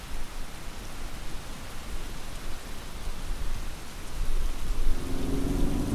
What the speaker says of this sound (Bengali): বাইরে তখন বৃষ্টি তুমুল তাণ্ডব চালাচ্ছে।